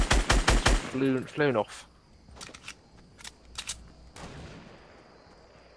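Gunfire in the video game Fortnite: after someone speaks briefly, several separate sharp shots crack at moderate loudness, spaced irregularly over a quiet background.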